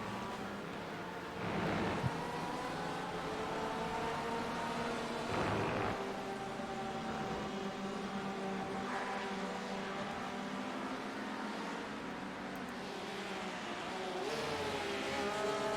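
Race cars in the Styrian 1 Hour Super Sprint of the ABN Super Sprint Championship roar steadily, engines rising and falling as several cars pass close by in a continuous loud drone, with no talk.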